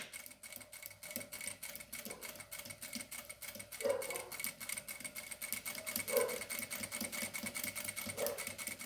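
A home sewing machine slowly stitches the curved seam of a small rounded fabric pouch, a quiet, steady rapid ticking hum with a few brief louder clunks along the way.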